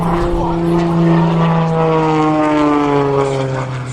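A powerful aerobatic propeller airplane engine roars loudly and steadily at an air show, its pitch sliding gradually lower as the plane passes.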